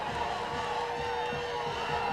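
Crowd at a high school football game between the Hebron Hawks and McKinney Lions reacting to a play, a steady distant roar of voices with scattered shouts, unbroken throughout.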